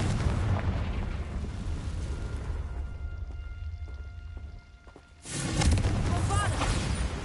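Blasting spell explosions in Hogwarts Legacy, loud booming bursts that fade into a quieter lull before another heavy blast erupts, with a voice speaking over the action.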